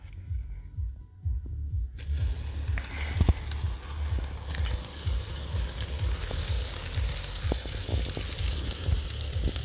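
A Lematec model CC72000 locomotive runs with a soft motor hum over quick rhythmic low thumps and clicks, steady throughout with no voices.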